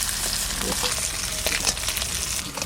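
Fish frying in hot oil, a loud, dense crackling sizzle with scattered pops throughout.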